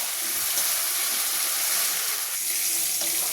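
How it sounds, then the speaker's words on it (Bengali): Masala and potatoes for a fish curry sizzle while being sautéed in a pan, a loud, dense, continuous hiss close by with no talking over it. "মশলাটাকে আর একটু কষিয়ে নিতে হবে।"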